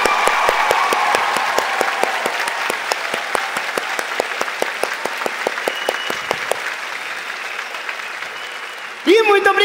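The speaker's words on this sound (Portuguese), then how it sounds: "Uma salva de palmas para todos os profissionais da área de saúde." Audience applause for health professionals at a comedy special, with dense clapping steady and loud through most of the clip, thinning out near the end as a voice cuts in.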